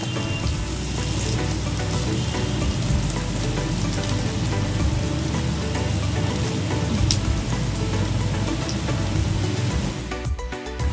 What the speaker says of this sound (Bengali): পেঁয়াজগুলো এবার একটু হালকা ফ্রাই করে নেব।